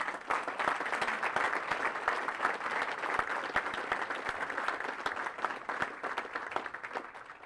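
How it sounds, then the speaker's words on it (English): A crowd at a military regimental graduation ceremony applauds steadily for several seconds, a dense patter of many hands clapping at moderate distance with no talking. "please join me in giving our awardees a round of applause."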